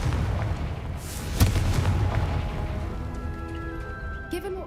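Loud blast from the Confringo fire spell in Hogwarts Legacy, a single heavy boom near 1.4 seconds over a dense rumbling battle din, with a faint whistling tone trailing afterward.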